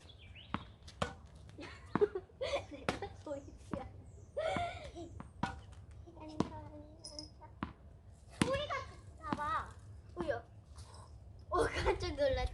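Sharp, repeated thuds of a tennis ball bouncing on a hard floor, mixed with children's voices, shouts and footsteps nearby.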